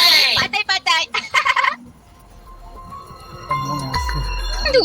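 A cartoon rooster cries out in a quick series of loud, gobbling, fowl-like calls, followed by quieter background sound and music.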